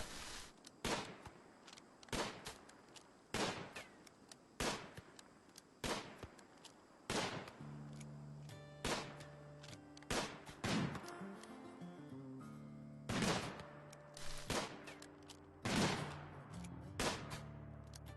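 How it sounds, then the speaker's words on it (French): Gunfire in the video game Rimworld: a series of sharp shots at fairly regular intervals, some in quick bursts, over quiet game sounds and short musical tones, with no talk. "Ah, Mikost, tu te joues du danger, hein, je crois. T'esquives les balles, je sais pas comment, mais t'esquives les balles"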